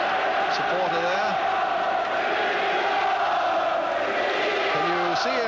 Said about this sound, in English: Somebody has really got that Crystal Palace crowd going again